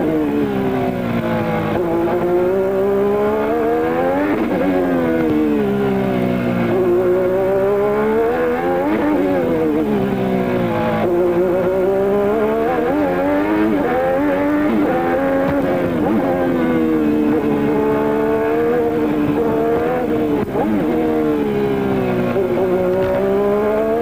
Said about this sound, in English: But just listen to the engine.